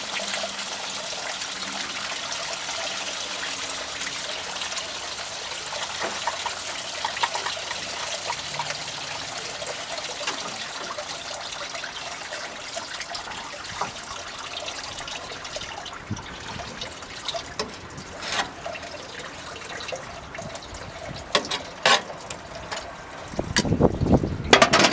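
Coolant drains steadily from the radiator of a 1965 Ford Galaxie during a water pump and radiator replacement, a continuous close trickle with a few louder splashes and clunks near the end.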